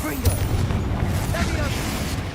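Confringo spell detonating in Hogwarts Legacy, a deep booming blast with a crackling, rumbling tail that fills the short moment at close range.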